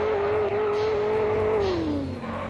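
A car in a Brazilian driving game fitted with a turbo mod roars loudly and close, its engine tone holding steady before dropping away near the end, heard alone without talk.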